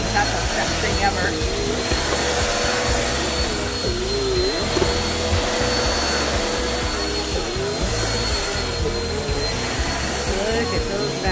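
A vacuum cleaner runs steadily and loudly on newly installed carpet, a constant motor whine with a faint talking voice underneath throughout.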